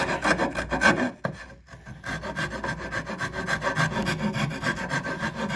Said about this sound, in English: we're going to cut away with our 4 in hand, smoothing out the edges